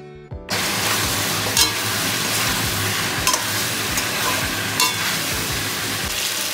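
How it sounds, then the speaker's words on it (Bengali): Chicken pieces frying in a pan with ginger garlic paste added, a steady loud sizzle with scattered stirring clatters throughout, no talking. "এই মাংসটা ফ্রাই হতে হতে হালকা ফ্রাই হতে হতেই আমি দিয়ে দিলাম আদা রসুনের পেস্ট"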